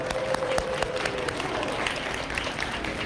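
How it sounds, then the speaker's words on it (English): An audience at a storytime event claps for the librarians in a brief, steady burst of applause with some sharper nearby claps. "Let's have a big round of applause for our librarians."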